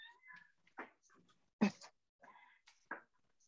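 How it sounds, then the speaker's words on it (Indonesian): A pet cat meows several times indoors, in short separate cries with gaps between them, fairly close and not loud, with no talk over it. "Oh, ini kucingku yang lain nih"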